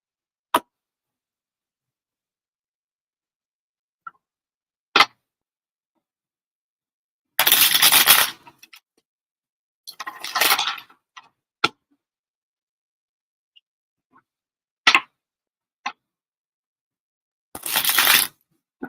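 Tarot cards being shuffled in a quiet room, with a few bursts of riffling and scattered sharp taps and clicks between them.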